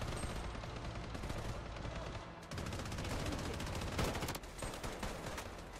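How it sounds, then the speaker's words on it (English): Sustained gunfire in a free-to-play Call of Duty-style shooter game, dense rapid bursts and machine-gun volleys running nearly continuously and loud, with a brief lull midway before the shooting resumes. "I think we're actually kind of getting shot at again"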